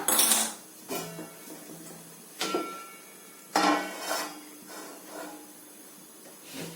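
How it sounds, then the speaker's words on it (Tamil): A metal kadai clatters and clanks several times as it is set down on a stove, with sharp knocks spaced over a few seconds and a faint hiss between them. "ஃபர்ஸ்ட் ஸ்டவ் ஆன் பண்ணி கடாய் வச்சிடலாம்"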